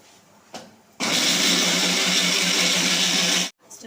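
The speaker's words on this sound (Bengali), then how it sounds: "এই যে মিক্সচারে মিক্স করে সেটাকে দেব" A mixer grinder whirs loudly for about two and a half seconds, steady and high-pitched, then cuts off abruptly; a light knock comes just before.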